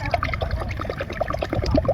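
Water poured into a container set out for birds to drink, with splashing and trickling bursts close by, alone without speech.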